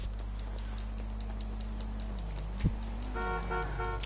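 A car horn honks in the street with a few short, clipped toots near the end, rising over a low, steady traffic hum.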